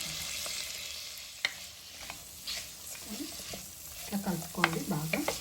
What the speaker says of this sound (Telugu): మనం ఈ లోపల దంచి పెట్టుకున్న అల్లం వెల్లుల్లి పేస్ట్ వేసుకోవాలి.